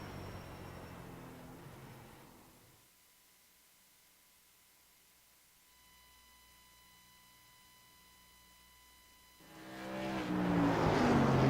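Modified race cars lapping Langley Speedway in the iRacing video game: a loud engine roar fades out, then near silence with faint steady tones, and the engine noise swells back in loudly at the end.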